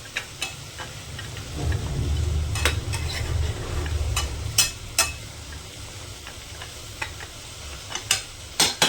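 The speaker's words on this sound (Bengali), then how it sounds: "এভাবে বড়িগুলোকে আমি ভালো করে মিশিয়ে নেব।" Bori lentil dumplings being mixed in a pan for bori posto: a soft scraping stir with a low rumble, broken by sharp spoon clicks against the pan that come quicker near the end.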